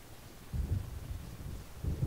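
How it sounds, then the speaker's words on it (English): Approaching thunderstorm in the video game Alan Wake: low rumbling thunder swells in two rolling surges over a constant windy background, with no speech. "It seems there's a storm coming."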